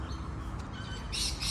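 Birds squawk and chirp in a cemetery among gum trees in a suburban shopping precinct, a short faint call rising near the end over low background hum.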